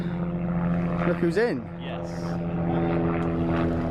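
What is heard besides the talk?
helicopter flying overhead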